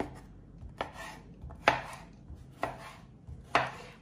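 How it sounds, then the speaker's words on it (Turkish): A knife slices zucchini thinly on a cutting board, four or five crisp, evenly spaced chops about a second apart, close and clear with no talking. "Böyle, böyle ince ince kabakları çıtırlık doğruyoruz."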